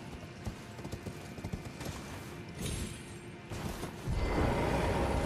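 Hooves of a summoned horse clip-clopping at a gallop in Elden Ring, a steady rapid beat that grows louder and denser near the end, mixed with game ambience and no talk.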